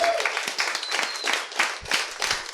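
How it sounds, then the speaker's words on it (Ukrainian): Audience applause fills a comedy show's improv set, a dense wash of many hands clapping that swells and dips in waves for the whole span, with no talking over it. "оплески Олександрі."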